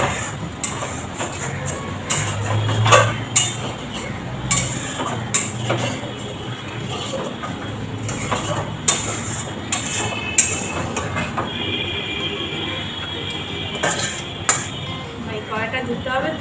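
A wok (kadai) being washed with water in a home kitchen, with faint clinks and light clanks of metal scattered throughout, sitting low under background noise and talk.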